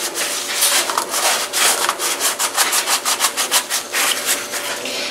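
Gritty side of a Scotch-Brite dish cloth scrubbing a surface, loud close rhythmic rasping strokes in a quick steady back-and-forth pattern.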